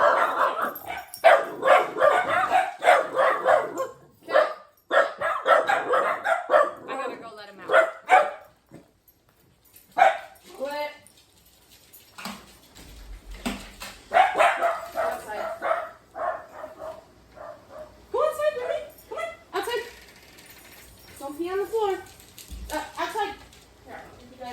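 Dogs bark repeatedly outdoors in loud, irregular bursts of yips and woofs with brief whimpers, alternating with a person talking and short pauses between flurries.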